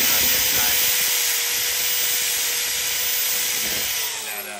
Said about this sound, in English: I guess it's a mini belt sander.